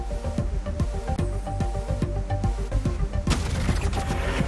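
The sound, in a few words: fireworks set off by supporters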